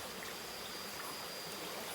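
A river beside a riverbank flowing with a steady, even rushing hiss of water, close and continuous, with a faint insect-like tone running underneath.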